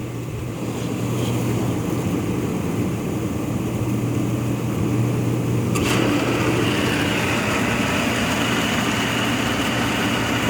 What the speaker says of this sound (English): And hear that pump.